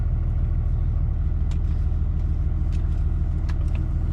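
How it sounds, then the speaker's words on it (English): A 6.7 Cummins diesel pickup runs with its full exhaust brake engaged, a steady, loud, deep rumble that holds throughout with a few faint ticks on top. "Full exhaust brake on."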